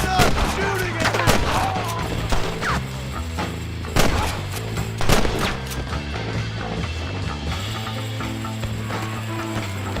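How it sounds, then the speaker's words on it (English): Gunshots in the Western game Red Dead Redemption crack out in scattered bursts, several sharp reports over clanking mechanical sounds and background music, with a voice speaking at times. "Stop shooting at me!"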